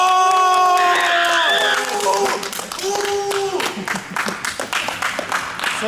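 Crowd claps and cheers for the winner of a Game of Bike contest, a dense patter of applause with whoops breaking out after sustained tonal sounds at the start, staying loud and close throughout.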